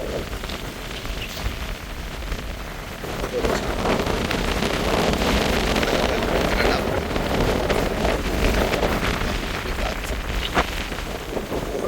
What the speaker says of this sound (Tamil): தள்ளுற அளவுக்கு காற்று வந்து அடிக்குது